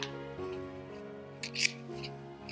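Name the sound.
tearing cardboard templates for a yarn pompom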